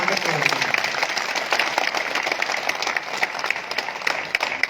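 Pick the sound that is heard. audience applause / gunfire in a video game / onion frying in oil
audience applause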